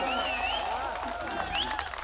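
An audience at a Hindi poetry recital claps steadily and densely throughout, with voices faintly present under the applause.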